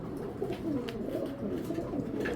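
Pigeons coo softly in a low, continuous murmur, fairly faint and without talking.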